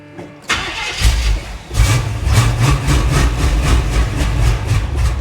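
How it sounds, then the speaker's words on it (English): A 1977 Chevy Monte Carlo engine cranks with a rhythmic whirring starter, then catches and fires up into a loud, close, pulsing idle. "Let the fuel pump kick in. See if this will fire up."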